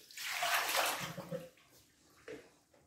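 Water poured off from a pot of chicken broth, a close splashing pour that swells and then tapers into trickles, followed by a brief second splash.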